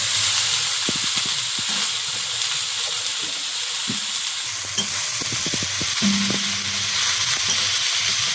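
Greens being stir-fried with shrimp in a pan, a steady close sizzle and hiss throughout with occasional stirring scrapes and clatter, no talking.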